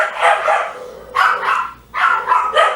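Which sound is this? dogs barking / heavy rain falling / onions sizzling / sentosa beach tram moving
dogs barking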